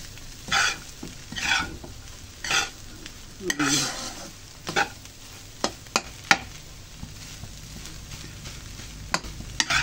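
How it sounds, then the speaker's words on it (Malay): A utensil scrapes and stirs through fried rice in a pan in irregular strokes, with a faint sizzle underneath and occasional sharp clinks. "Kita biarkan dia lama, kita kacau-kacau dia"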